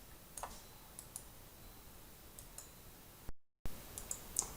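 A computer mouse gives a few faint, sparse clicks while text is being copied, heard over a low steady hiss in an otherwise quiet room.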